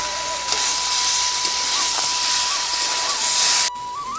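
Vegetables with green chilies fry in a hot pan, a loud, dense hiss running continuously up close with a thin whine above it, before it drops away abruptly near the end.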